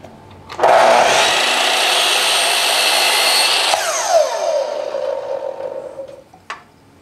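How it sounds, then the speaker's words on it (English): A miter saw cuts a board to final length for a tool chest, a loud, steady whining buzz that runs about three seconds, then spins down with a falling tone before a faint click at the end. "I just come over to my miter saw and line up my cut with that second mark"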